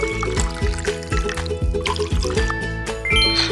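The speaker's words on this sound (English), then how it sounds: "Pour some water into the bowl." Water is poured into a bowl in a pizza cooking video game, a liquid trickling effect over bright, busy game music with a rhythmic bass pattern.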